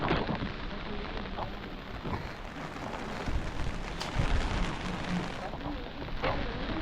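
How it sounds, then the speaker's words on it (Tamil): Rain falls steadily outside a homestay in Munnar, a dense, even hiss of drops on surfaces with occasional louder patters, moderately close and continuous. "ஆக்சுவலி இங்கே நல்லா மழை பெஞ்சிட்ருக்கு."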